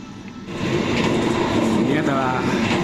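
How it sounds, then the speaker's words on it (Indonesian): Steady rumble and rattling clatter of a train running at about 120 km/h, heard from inside the open rear car, continuous and fairly loud after a quieter start. "kereta sedang melaju kencang nih dengan kecepatan maksimal 120 km per jam, dan itu nih anteng, cuman ya agak berisik ya karena di sambungan terakhir"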